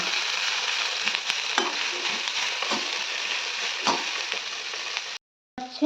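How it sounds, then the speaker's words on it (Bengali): Bitter gourd (korola) frying in hot oil gives a steady, close sizzle with occasional stirring clicks, broken by a brief moment of silence near the end. "আর এখানে হচ্ছে করলা ভাজা।"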